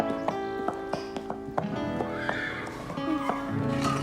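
A horse arrives with a run of evenly spaced clip-clop hoof strikes, close and fairly loud, over background music, with a neigh near the end.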